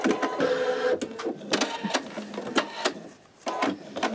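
A home embroidery machine stitches a greeting card design on peel-and-stick stabilizer, giving rapid, uneven mechanical chattering bursts with brief pauses, close and moderately loud, without talk.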